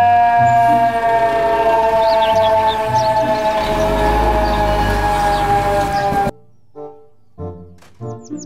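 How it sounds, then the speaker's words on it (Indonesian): A toy fire truck's steady electronic siren tone drones with layered pitches for several seconds, then cuts off abruptly, followed by a few short tonal blips. "Mobil truk pemadam kebakaran."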